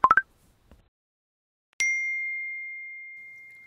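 Phone notification tones: a quick burst of three rising chimes, then a single bright ding that rings out and slowly fades, loud and near with no talk over it.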